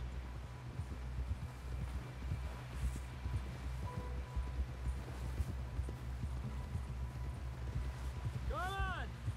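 Horse hooves gallop in Red Dead Redemption II, a steady rhythmic clip-clop at moderate distance running throughout, with rustling in the background.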